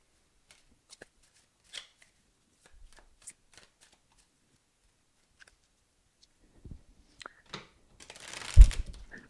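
Tarot cards are handled and shuffled in a quiet room, with scattered soft flicks and taps building to a brief burst of riffling near the end.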